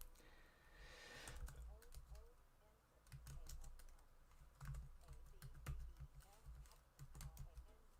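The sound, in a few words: typing on a computer keyboard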